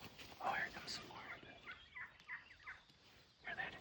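Wild turkey hen calls during spring turkey hunting, a few short raspy yelping bursts, moderately distant, with quiet outdoor gaps between them.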